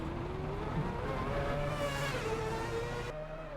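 A Mazda 787B race car in Assetto Corsa accelerates uphill on the Goodwood Festival of Speed hill climb, its engine a steady, loud drone with rising harmonic tones throughout, no talk.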